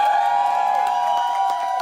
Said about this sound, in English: So give me a round of fucking applause.